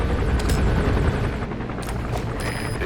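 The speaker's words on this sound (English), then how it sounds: "That's an enemy gunship." An enemy gunship helicopter in the video game MGSV Phantom Pain makes a loud, continuous rotor roar and rumble, with sharp bursts of gunfire and impacts breaking through at intervals.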